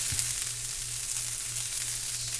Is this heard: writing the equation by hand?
no